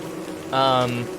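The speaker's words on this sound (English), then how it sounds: "it'll send out a squad of killer bees to get you" A killer bee in Don't Starve gives one short, buzzy drone lasting about half a second, close and clear.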